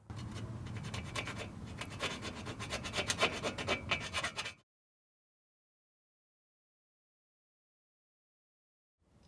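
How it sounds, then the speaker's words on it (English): A small round file rasps back and forth to clear sharp burrs from a freshly drilled hole in a railing, close and steady scratching strokes for about four and a half seconds before stopping. "you need to use a small round file to clean up any of the sharp burrs left behind"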